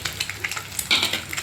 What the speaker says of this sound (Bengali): আস্তে আস্তে আঁচ দিয়ে ভাজতে হচ্ছে